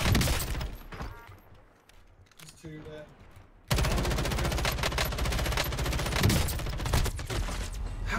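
Rapid machine gun bursts in Call of Duty Warzone: sharp, sustained volleys start loud, fade to a lull with scattered shots, then a dense, continuous barrage resumes, with voices talking underneath at times.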